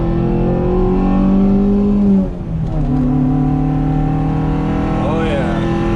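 A Honda engine being street tuned revs hard and climbs in pitch into VTEC, drops briefly, then pulls up again with a rising howl, loud and close, with no one talking.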